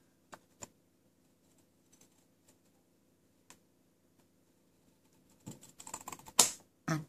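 Long scissors trimming a piece of card stock: a few isolated clicks, then a close, crisp burst of snipping and crunching near the end, with no talking.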